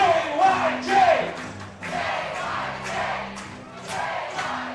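A baseball crowd at an East Division final chants "JYJ" for batter John Young Jr., a loud rhythmic roar of many voices repeating the chant, with a whistle near the start.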